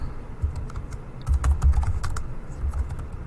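Fingers tap out a short phrase on a computer keyboard in a quick, uneven run of clicks, close and clear with no voices.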